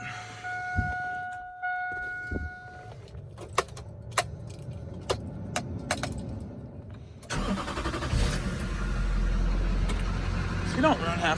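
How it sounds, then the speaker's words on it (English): Diesel truck with a straight pipe being started, with key jingles and chime tones, then the cranking engine catching into a loud, deep, rumbling idle that continues steadily, close by. "let's fire this thing up"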